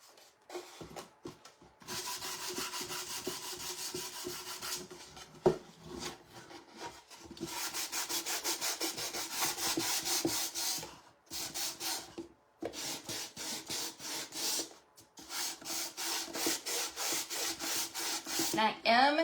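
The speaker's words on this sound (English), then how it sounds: "I'm just going to use my sandpaper in case there's any spots that I missed." Old wooden box being hand sanded with 150-grit sandpaper, steady rasping back-and-forth strokes in bursts with short pauses, close and fairly quiet.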